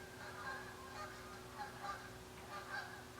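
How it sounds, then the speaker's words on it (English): Geese honking outdoors, a series of faint distant honks repeating every second or so over a low steady background hum, with no talk. "Do you hear the geese?"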